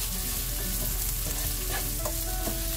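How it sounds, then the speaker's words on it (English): Dried red chilies and onions sizzle steadily in a hot pan with oil, a close, continuous frying hiss with occasional faint stirring scrapes and no talk. "I'm going to continue sauteing this till the onions are nice and brown"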